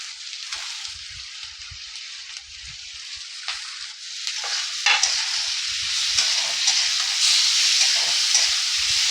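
Chopped tomatoes fry with semolina and vegetables for upma, giving a bright, steady sizzle that grows denser over time, with a few soft stirring scrapes early on.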